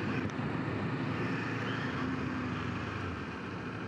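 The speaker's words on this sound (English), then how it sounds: "engine braking is actually super good on this machine as well" Kawasaki Z400 motorcycle engine braking while riding, a steady loud engine drone with heavy wind rush over the microphone throughout, no talk.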